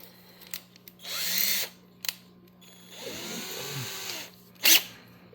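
A power drill whirs in two bursts near a mini bike motor bolt, about one second each with a pause between, plus a few sharp clicks and clanks around them. No one speaks.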